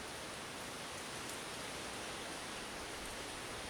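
Wind-driven rain sweeps over a hidden night camp as a steady, even hiss, soft and continuous without distinct drops, with no voices.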